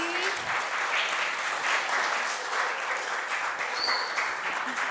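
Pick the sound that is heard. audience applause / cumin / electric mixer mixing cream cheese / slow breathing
audience applause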